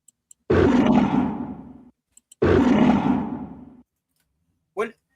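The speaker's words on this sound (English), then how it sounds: "This Godzilla 1984 roar is all over the place there" Two long, rumbling Godzilla roars from the 1984 film, deep and loud, each trailing off, followed by a short, higher-pitched sound.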